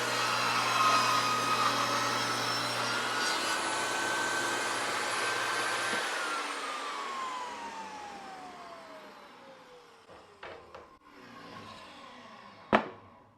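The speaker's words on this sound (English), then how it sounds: "I'm talking and the saw is going, it's probably very loud" A SawStop compact table saw runs loud and steady through a cut, a sustained motor whine and blade roar that then spins down, trailing into a few sharp clunks and a final bang.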